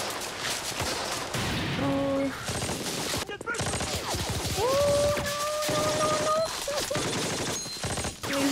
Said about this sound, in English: So nervous when they're shooting at him.